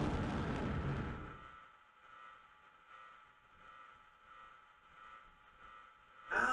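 A fire-and-petrol explosion in the video game Resident Evil 3: Nemesis erupts as a loud rumbling blast that quickly fades into a long, quiet, muffled ringing tail before another burst of sound at the end.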